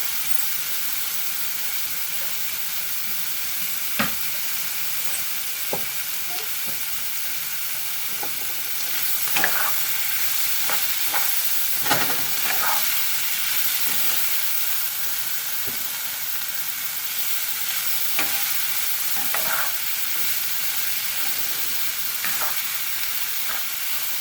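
Whole small Brussels sprouts frying in a pan with a steady bright sizzle, broken by occasional pops and the scrape of stirring, heard alone without any voices.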